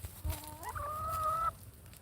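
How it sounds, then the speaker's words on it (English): A pet chicken indoors lets out a single close call, a short rising note that settles into a sustained tonal squawk lasting about a second, then stops abruptly into quiet room noise. "How did you get a chicken?"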